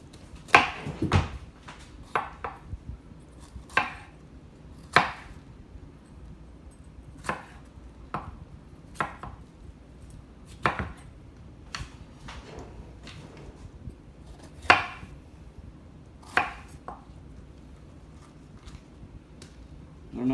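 Warm vegetables for a Georgia Grown vegetable casserole are chopped on a board, giving irregular knife knocks spaced a second or two apart, crisp and close in a quiet kitchen.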